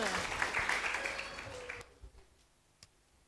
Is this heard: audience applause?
yes